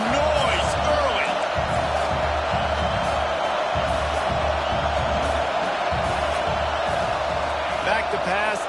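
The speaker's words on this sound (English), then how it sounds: "This crowd bringing the energy and noise early." Stadium crowd at a college football game, Mississippi State against Oklahoma State, a constant loud roar of many voices with rhythmic thumping and shouts, an announcer's voice running over it.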